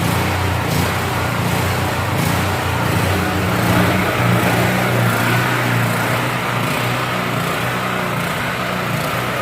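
A Generac GP 5500 portable generator runs at a steady, loud idle, its engine droning continuously and close by with no pauses or talk.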